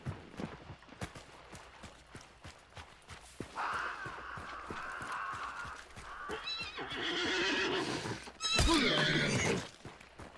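Horse whinnies and snorts over clip-clopping hooves in a video game, faint footfalls first, then a long neigh, and a louder burst near the end.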